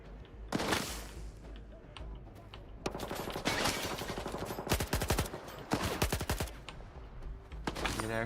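Gunfire in S.T.A.L.K.E.R. 2: Heart of Chornobyl, with rapid bursts of automatic shots and scattered single cracks repeating loudly and close throughout.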